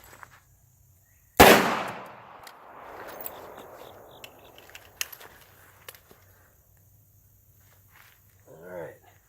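A single loud, sharp gunshot from a Smith & Wesson 586 revolver fired in double action during a training session, with a brief decaying echo and no further shots.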